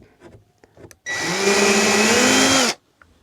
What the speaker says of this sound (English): usually when you drill into the studs and you can see the wood being pushed out